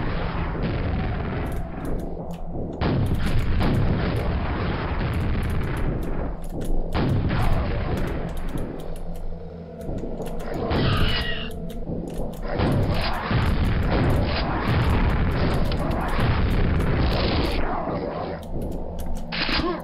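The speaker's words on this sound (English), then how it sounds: "let's go ahead and use our rockets here" Rocket launcher blasts and explosions in the PC shooter Quake, Episode 5: Dimension of the Past, a dense run of loud booming detonations and gunfire crashing repeatedly over a steady game soundscape.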